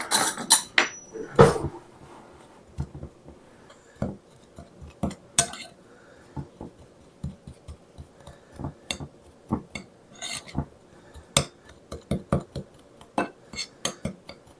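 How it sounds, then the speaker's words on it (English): Salt and pepper seasoning mixed in a bowl for pulled pork, a string of close, irregular clinks and scrapes of a utensil against the bowl, some louder knocks among softer taps. "Then we'll just mix that up."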